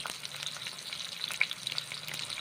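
Eggplant frying in hot mustard oil in a heated kadai, a steady close crackling sizzle that stays even and continuous the whole time.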